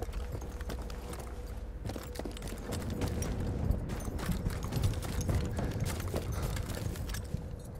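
Horse hooves clip-clop steadily through the Battlefield 1 game soundscape, a continuous mid-level rhythm of hoofbeats mixed with dense ambient battle noise and no speech.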